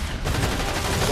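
Enemies in a video game fire in a dense, continuous burst of rapid gunshots, loud and close throughout a short stretch with no pause.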